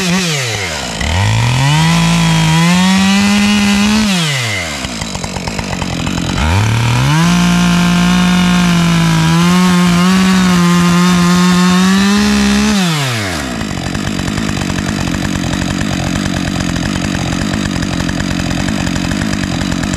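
Chainsaw felling a tree in woodland, making the back cut: two long loud bursts of revving cutting, each rising and holding steady before dropping off, then idling between and after.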